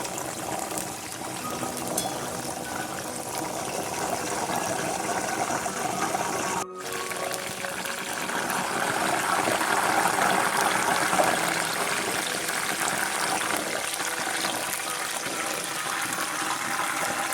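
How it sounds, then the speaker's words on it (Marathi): Salt water poured over banana chips frying in hot oil gives a loud, continuous crackling hiss that fills the whole stretch, with one brief dip midway. "पाणी टाकल्यामुळे आपल्याला त्याचा तडतडाचा आवाज येतो"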